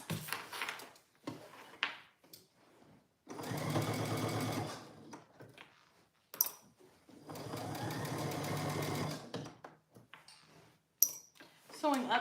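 A sewing machine stitching straps on a pillowcase-style sundress runs in two long, even bursts, with quieter clicks and handling clatter around them.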